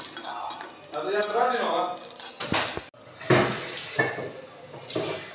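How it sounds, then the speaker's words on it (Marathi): Fenugreek seeds being stirred as they roast in a pan over low heat, clinking scrapes of a spoon against metal in uneven strokes, with someone talking throughout. "एकसारखं हलवत राहायचं म्हणजे चांगलं भाजते सगळं."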